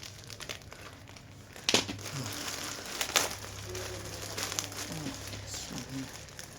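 Thin plastic bag crinkles in several short bursts while a package holding an aikido hakama is cut open, a steady low hum running underneath and faint voices in the background.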